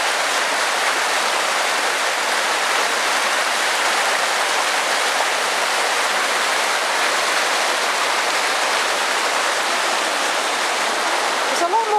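Meltwater stream running off mountain ice, swollen after a thaw, gives a constant loud broadband rush and gurgle for the whole stretch, steady and close with no pauses.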